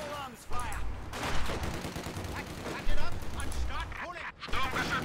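Gunfire from a Company of Heroes 2 battle, with tank and anti-tank gun exchanges, comes as bursts of shots and booms under continuous talk.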